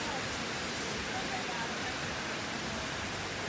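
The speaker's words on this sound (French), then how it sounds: "Il pleut pas mal quoi." Steady rain falls outdoors on a street in Bali, a dense, even hiss of pouring water throughout with no breaks.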